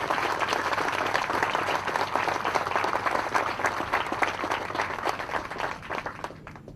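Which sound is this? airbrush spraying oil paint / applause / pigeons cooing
applause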